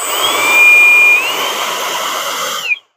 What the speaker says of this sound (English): I've got my motor over here. It's just sort of loose, so I got to hold on to it.